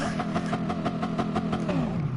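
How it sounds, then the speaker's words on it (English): Engine sound of a car accelerating at full throttle in Gran Turismo Sport, a steady loud mid-range engine tone whose pitch shifts near the end as the throttle is released, with no talking. "here's the gas, full throttle, and when I let go"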